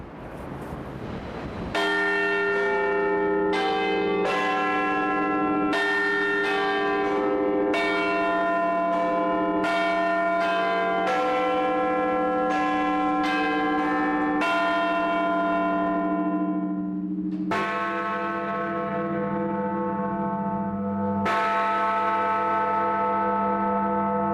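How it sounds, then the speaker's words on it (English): Loud, ringing clock tower bells in London strike a sequence of quarter chimes, each tone sustaining and overlapping in a slow, stately pattern. "The quarter bells first."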